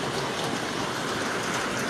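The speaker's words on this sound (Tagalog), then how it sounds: "Sabayan pa ng ulan." Heavy rain pours down on a flooded street in a steady, dense hiss, loud and continuous throughout with no breaks.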